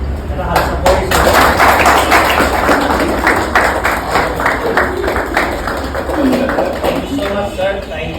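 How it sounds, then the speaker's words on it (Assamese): Hand clapping from an audience welcoming a guest at a school Saraswati Puja celebration, a dense, steady patter of many claps that runs throughout with faint voices mixed in. "এটা হাত চাপৰি"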